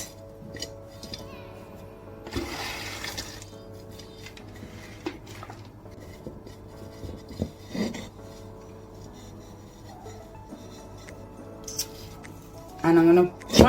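Aroid potting soil mix being handled and scooped, giving intermittent gritty rustles and rasping scrapes, with a louder burst early on and a cluster of handling noises near the end.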